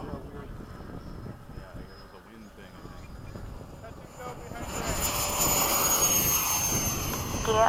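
A model jet flying in formation with other scale jets at Bayside climbs after takeoff, its turbine hiss swelling louder and brighter toward the end as people talk nearby.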